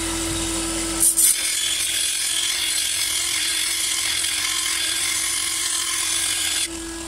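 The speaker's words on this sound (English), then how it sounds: "I'll take my flat file and give it quite a few strokes to try and get back to a straight" Steady rasping strokes of a flat file on a lawn mower blade continue for several seconds alongside a constant background hum, with a couple of sharper scrapes near the start.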